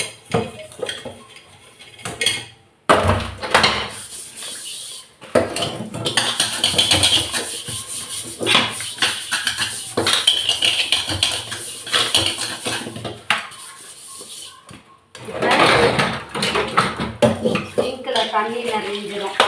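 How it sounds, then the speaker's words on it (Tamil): Pots, pans and cutlery clatter and clank in a kitchen sink during washing, with repeated loud, close metallic knocks and scrapes, brief pauses, and running water at times. "இப்போ எவ்வளோ பெரிய பாத்திரம்னாலும் நம்ம கழுவணும்"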